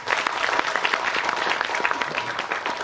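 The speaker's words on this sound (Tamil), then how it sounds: "இயக்குனருக்கு ஒரு பெரிய கைத்தட்டல் வச்சு." Audience applause rings out for a Tamil film director at a stage event, dense steady clapping from a large crowd sustained throughout at fairly close range, with no speech over it.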